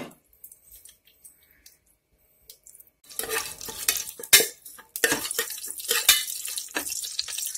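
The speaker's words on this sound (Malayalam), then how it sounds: "അതിൻ്റെ കൂടെ നമ്മൾ ബേ ലീഫ്, കറാമ്പ്, കറുവപ്പട്ട, ഏലക്ക ഇതെല്ലാം കൂടി ഒന്നിട്ട് വെച്ചാൽ" Whole spices (bay leaf, cloves, cinnamon and cardamom) hit a pot for prawn biryani. After a quiet start they give close, irregular sizzling, scraping and stirring clatter that stays loud and uneven to the end.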